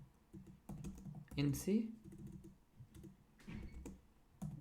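Typing on a computer keyboard while writing Python list code, soft quick key clicks in short bursts under a man's quiet speech.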